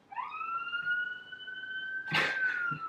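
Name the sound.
police car sirens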